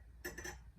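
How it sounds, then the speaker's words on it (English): A metal screw rubs against drywall with a brief, faint squeak over a low steady hum. "That squeaking noise you're hearing is the screw making a mark"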